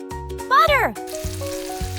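Butter frying in a tiny miniature pan, a brief close sizzle amid a steady rhythmic music loop.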